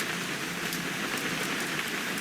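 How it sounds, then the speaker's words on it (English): Steady rainfall in the video game What Remains of Edith Finch hisses evenly throughout, a constant wash of drops with no pauses or voices. "It's gonna rain the whole weekend, isn't it?"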